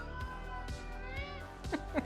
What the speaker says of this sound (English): Somebody needs to invent a silent kind of cat.